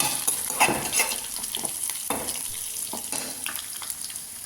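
Curry leaves, dried red chillies and chilli powder sizzle in hot oil for a beef fry, with brisk stirring and clinking spoon scrapes against the pan over a steady crackle.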